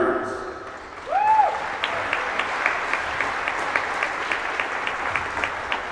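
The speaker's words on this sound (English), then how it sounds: "Let's start with a round of applause for student artist Gianna Burns" A gym crowd at a girls' high school basketball game, Westlake vs Olmsted Falls, applauds a student artist. The clapping swells in after a brief whistle-like tone and holds steady at moderate distance, with scattered sharper claps.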